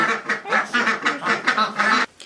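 Ducks on a farm quack in a rapid, loud, close series of repeated calls that stop abruptly near the end.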